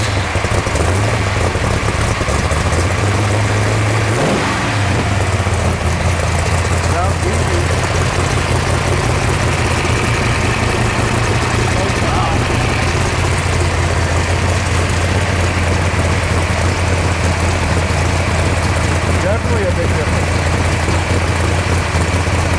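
A race car with a 1050 carburetor, running on race fuel, idles with a steady low, loud engine drone throughout, its pitch shifting slightly early on as people talk nearby.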